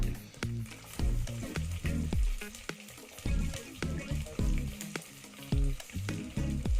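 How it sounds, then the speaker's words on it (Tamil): Chicken biryani base frying in a clay pot, with steady oil sizzle broken by repeated sharp stirring scrapes and knocks of a utensil against the pot, close and fairly loud, with no talking. "நல்லா பொரியணும் நல்லா பொறிஞ்சிருச்சு"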